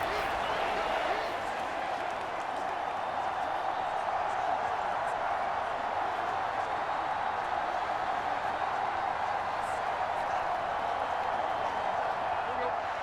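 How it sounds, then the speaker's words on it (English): A loud, dense stadium crowd roars steadily at a football game, a continuous wall of cheering noise without pause, with a commentator's voice faintly mixed in. "this crowd making it hard to hear"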